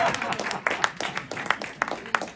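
An audience at a Hindi kavi sammelan poetry recital breaks into scattered, rhythmic clapping, moderately distant, with a few louder individual claps standing out.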